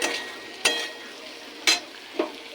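An onion mixture being sautéed in a pan for dal chili curry: a soft steady sizzle with three sharp scraping strokes of a spatula.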